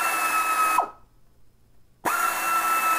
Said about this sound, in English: I am going to use an air ratchet to remove the rest of these screws.